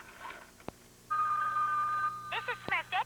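Smurf See and Save toy phone ringing in a 1983 TV commercial, a steady electronic ring tone held for about a second followed by chirpy warbling bursts, with a couple of sharp clicks.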